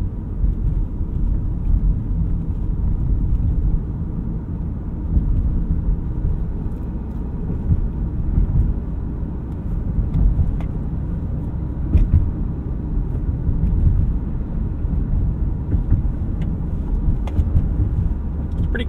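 A 2013 Acura TSX Wagon driving through a suburban neighborhood, heard from inside the cabin as a steady low engine and road rumble that holds at an even level throughout.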